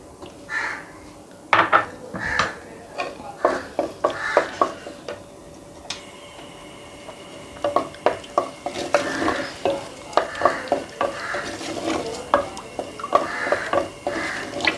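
Onions frying in vanaspati ghee in a pot, with a soft sizzle under repeated scraping and stirring strokes of a utensil against the metal pot, close and fairly loud, in irregular bursts.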